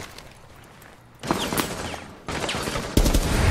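Rapid automatic gunfire in the tactical shooter Rainbow Six Siege, dense bursts that step up louder twice, quite close and harsh, with no talking.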